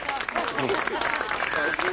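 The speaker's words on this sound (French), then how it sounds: "je vous demande d'applaudir chaleureusement Delphina et Federico" Guests clap warmly for Delphina and Federico at a wedding ceremony, a busy burst of applause with voices mixed in throughout the short stretch.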